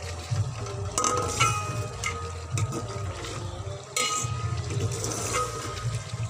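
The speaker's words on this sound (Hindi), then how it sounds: "गोश्त को हम 4-5 मिनट के लिए फ्राई करेंगे।" Mutton pieces sizzle and fry in ghee inside a pressure cooker, with a steady crackling hiss and occasional sharp clinks of a spoon stirring against the metal pot, no talking.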